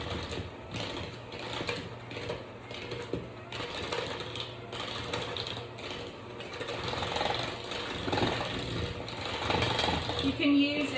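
An electric hand mixer creams sugar cookie dough for candy cane cookies, a steady buzzing whir with rhythmic clattering pulses running continuously for about eleven seconds, close and moderately loud.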